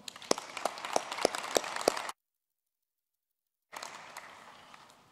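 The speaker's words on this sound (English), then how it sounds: "May we give him a round of applause." A round of applause at a university graduation ceremony for the Faculty of Theology and Religion and the Faculty of Law: a steady patter of crowd clapping with a few sharp, distinct claps, a sudden silent gap, then clapping resumes more softly.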